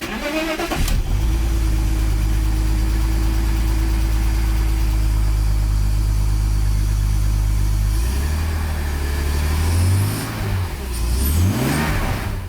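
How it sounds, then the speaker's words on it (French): A BMW E46 330ci engine, freshly fitted with reworked intake parts, runs loud and close for the whole stretch, holding a steady note before dipping and rising through a couple of rev swells near the end. "je n'ai rien à déplorer du fonctionnement de ce moteur. Il tourne parfaitement bien."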